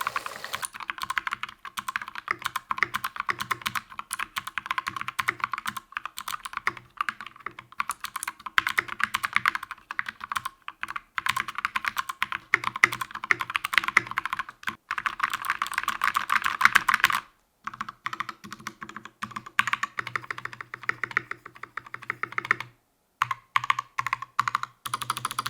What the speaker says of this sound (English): Now it's time to do a sound test with this hellspawn of a keyboard.